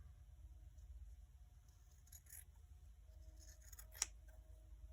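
Scissors snip felt fabric in a few faint, quiet cuts against a near-silent background.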